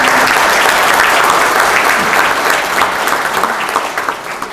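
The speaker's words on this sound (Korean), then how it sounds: "세 분 박수 한번 부탁드립니다." A crowd at a forum in the National Assembly Members' Office Building in Seoul applauds loudly and steadily, the clapping thinning out slightly toward the end.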